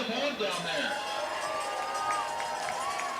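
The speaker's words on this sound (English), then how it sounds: "And the crowd getting loud" High school football game crowd cheering and shouting in the stands, a broad sustained roar with rising whoops, heard from a distance under a commentator's voice.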